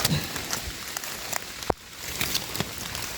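Rain falling outdoors in a forest while mushrooms are being gathered, a dense, steady patter of drops on surfaces with a few sharper nearby hits, and no talk.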